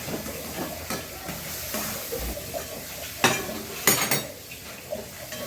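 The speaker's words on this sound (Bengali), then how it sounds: "লঙ্কার গুঁড়ো দিলাম অল্প, একটু ধনে গুঁড়ো দিলাম, ভালো করে ভেজে নিলাম" Chili powder and coriander powder frying in oil in a pan for a Bengali prawn malai curry, a steady close sizzle under repeated scraping and clanking of a spoon against the pan, with a few louder knocks toward the end.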